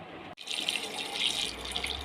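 Water pours steadily into a cooking pot holding two raw mangoes for boiling, a continuous close splashing rush that starts abruptly after a brief pause and runs alone without talk.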